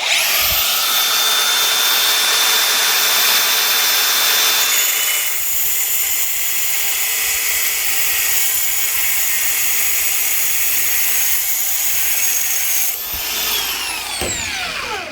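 A power tool grinds through a stainless steel bolt while sparks fly during a DR200 motorcycle repair, a loud steady whine running without pause before winding down near the end.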